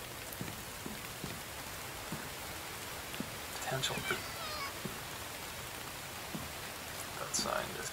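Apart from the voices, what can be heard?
rain in a video game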